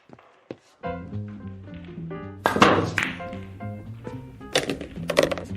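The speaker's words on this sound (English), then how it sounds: "Bank shot, 3 cushion." Pool balls strike and rebound off the cushions in a three-cushion bank shot during a radio-drama pool game: a few sharp wooden knocks and clacks at close range, with a musical score running underneath.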